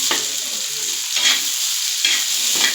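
Egg bhurji sizzles in a pan as tomato is added, a steady frying hiss broken by several scraping stirs of the spatula, close and fairly loud, with no talk.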